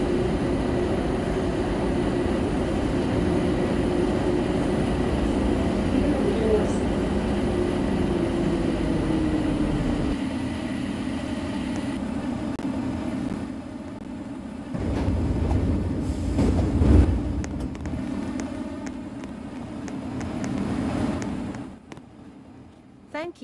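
Bombardier Innovia APM 300 people-mover train in a Roblox game rolling into a station, a steady running rumble that changes character midway and slows toward a stop, with a transit announcement voice speaking over it.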